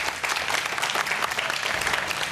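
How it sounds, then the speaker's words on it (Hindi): Dense, steady studio audience applause fills the whole stretch on a Pakistani Ramzan iftar TV transmission, loud and close with no talk over it. "और ये रही आपके लिए तालियां हमारे इत्तेहाद की तरफ से।"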